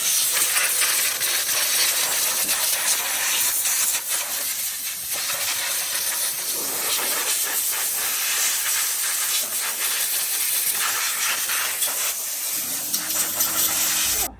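High-pressure air from an air compressor hisses steadily and loudly at close range during sawmill maintenance, a continuous broadband rush lasting the whole stretch with only slight dips in intensity.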